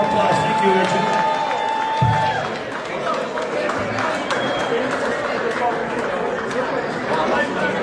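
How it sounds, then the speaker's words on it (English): A convention hall crowd at an annual festival applauds and chatters together, a dense sustained clapping wash that stays fairly loud throughout, with voices mixed in. "Give them a nice round of applause."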